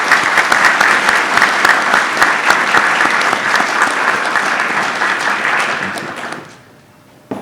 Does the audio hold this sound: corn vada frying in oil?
no